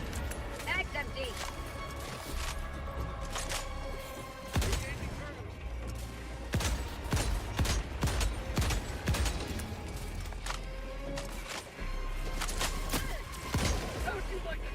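Video game gunfire from a recoilless rifle in a Helldivers-style shooter: repeated heavy shots and blasts over constant battle noise, with a player talking throughout.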